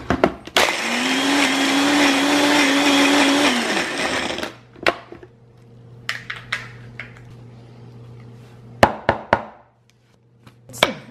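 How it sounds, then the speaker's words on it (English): A blender roars loudly for about four seconds, its pitch shifting as ice grinds for protein ice cream, then stops; afterward a few clinks and knocks sound in a quiet room. "And then you can put this in a blender or a ninja."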